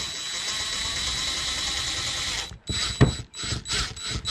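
Screws are driven into a third-generation Tacoma front door speaker mount for a Kicker plug-and-play speaker. A steady mechanical whir gives way to several short, choppy ratcheting bursts, close and fairly loud.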